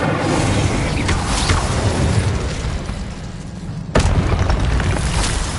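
Spell explosions from Hogwarts Legacy on PS5 boom and burst in a loud, dense stream of combat effects, with a sharp new blast cutting in near the end.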